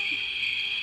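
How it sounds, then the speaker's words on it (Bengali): Crickets chirping in an old mansion at night: a continuous, even, high trill with no breaks, steady and moderately loud over near silence, with no voices. "ঘরগুলো শুধু ঝিঝি পোকার শব্দ"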